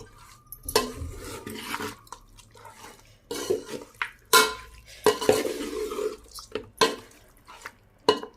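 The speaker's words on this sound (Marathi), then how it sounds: "मटण चांगलं मिक्स करून घेऊ" A spoon stirs mutton pieces in a metal pot, giving scattered scraping clacks and wet knocks at uneven intervals, close and fairly quiet, with no talk.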